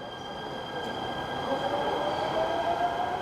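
An LA Metro K Line train rolls through the new airport station, a steady broad rumble with rising wheel squeal and faint tonal whine, heard close with no talking.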